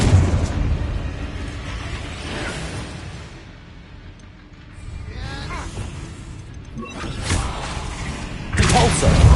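The Confringo blasting spell in a Hogwarts wizarding game goes off as several booming explosions and thuds, loud and close, with rumbling debris and magical bursts between the hits.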